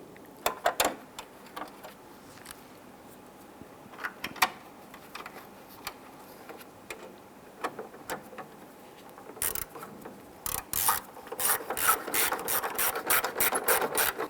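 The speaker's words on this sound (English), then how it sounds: "you go ahead and install the 2 screws." Two screws being driven into the plastic headlamp assembly of a 1995-2001 Ford Explorer, heard as a run of sharp ratcheting clicks, sparse at first and then a rapid close burst of repeated clicks near the end.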